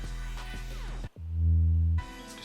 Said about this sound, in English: I added a little bit of distortion to the bass